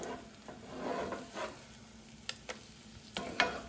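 Scrambled eggs cooking in plenty of butter in a pan, a faint, soft sizzle with a few light clicks and scrapes of a utensil toward the end, with no voices.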